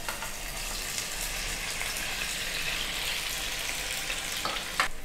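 Potatoes shallow frying in about three tablespoons of oil in a pan over a medium flame, a steady, dense sizzle that holds evenly throughout, close and fairly loud, with one brief sharper crackle near the end and no talking.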